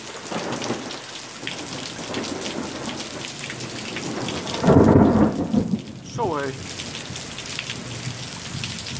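A heavy summer thunderstorm with steady rain pouring down throughout and a loud, close rumble of thunder building in the middle, while a person briefly exclaims nearby.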